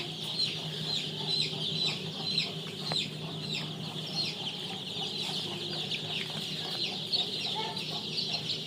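Tiger-breed chickens cluck steadily in a farm coop, a continuous chorus of clucks and soft calls at moderate loudness, with a faint rooster-like call among them and no talking.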